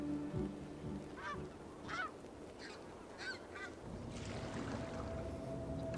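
Snow geese fly over Grand Canyon sandstone cliffs, giving several distant honks in loose succession over a steady wind-like rush, faint to moderate, with no talking.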